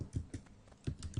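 Several quick clicks come from a computer keyboard as a software package install command is entered, light taps in an uneven burst, close and quiet, with no talking.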